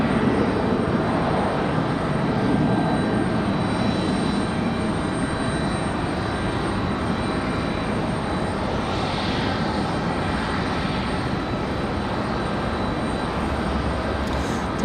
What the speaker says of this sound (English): This one here, Southwest, 1938, coming in from Dallas, coming in from DFW, Dallas Loves Field. 737 MAX 8